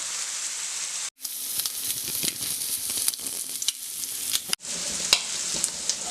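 Prawns shallow fry in a pan for a Kerala-style prawn roast, giving a steady bright close sizzle with scattered pops, briefly cut out twice.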